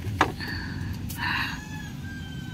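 A chicken near a bamboo perch gives short clucks and a brief crow-like call, moderately close, over steady low background noise.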